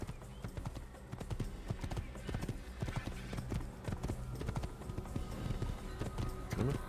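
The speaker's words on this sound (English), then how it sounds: "Horses with saddles all over the place." Saddled horses in Assassin's Creed, hooves clip-clopping in a quick steady rhythm on hard ground, close and continuous, with a brief snort or whinny near the end.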